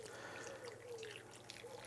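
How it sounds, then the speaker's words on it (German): Poultry stock is poured over cut potatoes in a roasting dish for a corn-fed chicken with rosemary and garlic. The liquid trickles softly and steadily close by, with faint splashes and drips. "Und jetzt gießen wir im Prinzip den ganzen Geflügelfond hier drauf."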